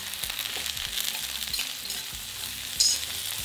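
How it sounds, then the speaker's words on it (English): Two sliced onions fry in oil in a wok over medium heat, a close, steady sizzle with light crackling and a brief sharper hiss near the end. "Add in 2 sliced onions and fry on a medium heat for 3 to 4 minutes"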